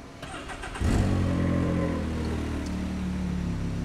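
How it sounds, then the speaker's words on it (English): A Can-Am Maverick X3 Turbo engine cranks briefly and then fires up just after a fresh ECU flash, settling into a steady, fairly close idle. "So now we want to just start the car and make sure it starts OK"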